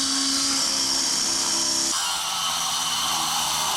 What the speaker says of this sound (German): Deswegen habe ich mir jetzt gerade von einem Kumpel hier die große Makita Flex geliehen.